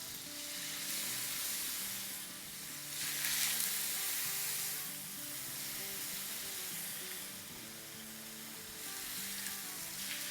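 Chicken pieces frying in about two tablespoons of oil in a preheated pan on high heat, a steady, even sizzle that continues throughout with a few louder swells, close by and with no voices.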